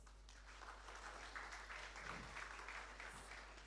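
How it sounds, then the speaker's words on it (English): An audience at a commemoration ceremony applauds a presentation, a faint, distant, even patter of clapping over a steady low electrical hum. "A good round of applause."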